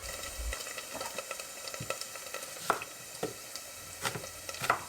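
Pieces of meat browning in an Instant Pot give a soft steady sizzle, with scattered crackles and stirring scrapes, close and quiet with no talk.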